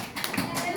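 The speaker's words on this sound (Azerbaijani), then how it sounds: "Bəli, alqışlar uşaqlar." Children in a classroom word-contest between two third-grade classes break into a short burst of applause, a quick patter of claps lasting under a second with talk around it.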